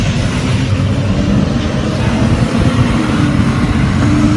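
Passing cars in city street traffic make a steady, loud, close roar of engines and tires, rumbling on without a break.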